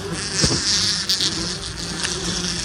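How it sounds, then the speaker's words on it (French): Wasps swarm close around a nest in Gironde, a steady high buzzing drone with individual insects whining louder as they pass near. "Et après on dit que les guêpes elles sont pas dangereuses."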